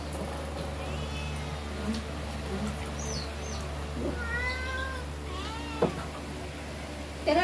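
A cat meows several times at close range in a rural Philippine home during a family fish grill and boodle meal, with faint talk and background noise.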